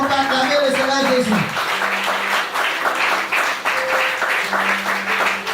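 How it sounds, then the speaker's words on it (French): A church congregation claps and cheers steadily and loudly in a continuous wash of applause, while a preacher speaks over the crowd. "Est-ce qu'on va acclamer très fort le Seigneur Jésus?"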